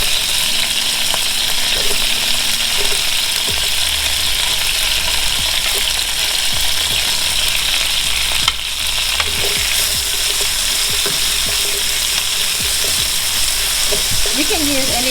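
Red onion frying in oil with shrimp for pad thai: a loud, steady, close sizzle with occasional utensil clicks and a voice faintly present underneath.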